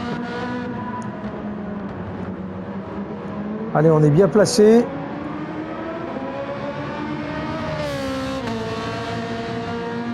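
Race car engines from a Daytona racing video game drone steadily under a commentator's talk, with a brief louder burst of revving and engine pitch sweeps midway.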